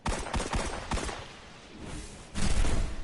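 Video game gunfire from a Häkke Lydmila-D pulse rifle in a shooter: loud, dense automatic bursts that ease off briefly, then a heavy volley resumes, with no talk.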